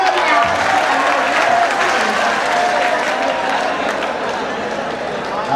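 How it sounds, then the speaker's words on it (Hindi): Steady, dense applause from a mushaira audience in Deoband fills the hall, close and loud, holding at an even level for several seconds before easing slightly toward the end. "एक बार तालियां खुल करके बजा दें"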